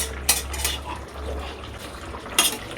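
A spoon scrapes and clinks against a pot while stirring a mustard-paste fish curry with spinach and lentil dumplings, giving a few sharp metallic taps over a low simmering hum.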